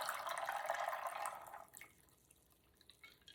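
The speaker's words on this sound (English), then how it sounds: "Now grab a glass filled with ice and pour the vibrant mixture into it." A vibrant drink mixture is poured into a glass filled with ice, a bright liquid splash for about a second and a half, followed by quiet with a few faint clinks.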